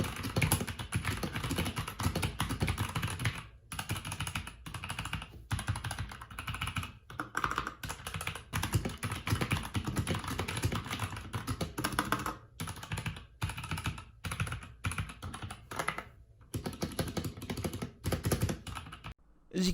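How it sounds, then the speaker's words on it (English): Brown switches on a Havit 60% mechanical keyboard typed steadily at close range, a continuous run of soft tactile clacks with brief pauses, heard alone. "here's a quick sound test on what these brown switches sound like"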